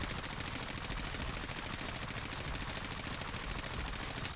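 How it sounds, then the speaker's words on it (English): Sustained automatic gunfire from a gun in Call of Duty Warzone, a dense, continuous rapid burst of shots at steady volume, with no talking over it. "So now when I go ahead and shoot, I'm basically going to counter all of this"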